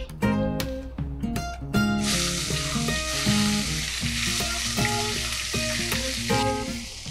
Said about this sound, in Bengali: চিকেনটা দিয়ে দিচ্ছি।